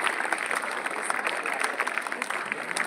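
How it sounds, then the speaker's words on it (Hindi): Audience at a school science and art exhibition clapping to welcome the judges, a steady patter of many hands that stays fairly faint and distant throughout. "तो जोरदार तालियां बजा के हमारे जजेस"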